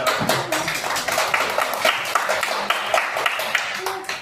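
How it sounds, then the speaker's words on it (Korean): Classroom audience clapping in a ragged burst during a school history lesson, steady and moderately close for about four seconds, with some voices mixed in. "마지막 박수입니다"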